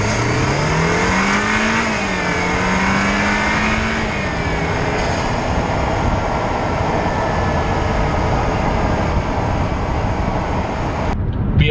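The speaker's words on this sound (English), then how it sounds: "It holds on to the gears longer. It shifts a lot faster now that we're in the sport transmission." A 2014 BMW 328i in sport transmission mode revs up and holds its gears, engine pitch climbing and then dropping with each fast shift, a steady loud drone heard from inside the car with no talking.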